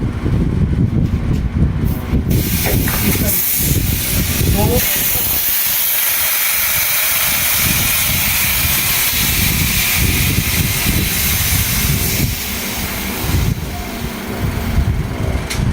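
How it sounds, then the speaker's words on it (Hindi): Pressurised gas blasting out of a compressor hose on a split AC unit during a condenser coil change, a loud close continuous hiss lasting the whole stretch with brief dips and clunks, and a voice talking faintly underneath. "हमारी जो कंप्रेसर है जिससे हम प्रेशर होल्ड कर रहे हैं उसका प्रेशर उड़ाएंगे"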